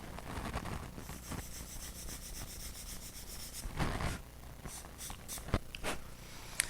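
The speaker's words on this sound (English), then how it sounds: "a lot of this sort of thing is just sanding and testing and fitting and resanding again" Close, quiet rasping of sandpaper rubbed back and forth over a small plastic P-40C Tomahawk scale model fuselage part in short uneven strokes, with a few soft knocks and taps.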